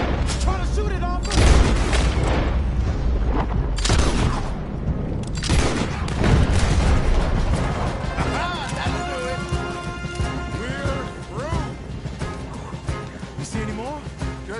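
Gunfire in a Red Dead video game during a chase on a blocked road, with loud shots and crashes mixed with galloping hooves and a neighing horse, under shouted talk throughout.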